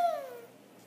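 A single short, falling meow, most likely a voice imitating a cat, sounds once and quickly fades.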